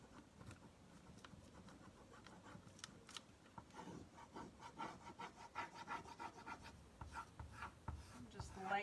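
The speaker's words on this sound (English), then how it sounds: "Lightly burnishing these ones so they kind of lay down, and then I'm going to go back and burnish even more." Rub-on transfers being burnished by hand, a soft, faint, steady scratchy rubbing in quick repeated strokes that grows a little stronger toward the end.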